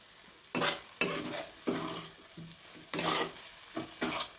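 Plantain fry being turned in a pan with a spoon, giving several scraping stir strokes over a soft sizzle of frying, close and fairly quiet with no talk.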